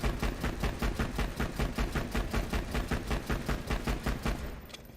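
A gun in Borderlands fires rapid, evenly spaced shots in a continuous automatic burst of about twenty rounds, loud and close, ending abruptly.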